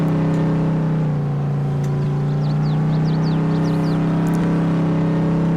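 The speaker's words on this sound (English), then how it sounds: "This truck is noisy. It's an older truck, so it's to be expected, especially when hauling a load like this" An older truck in Farming Simulator 22 hauls a heavy load with a loud, steady engine drone and a constant low hum. Faint higher whines rise and fall over it. Nobody speaks.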